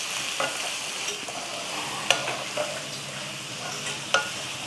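Onions sizzle in a pan with green chillies, curry leaves, ginger and garlic. The frying hiss stays constant, broken by a few sharp clinks of stirring against the pan.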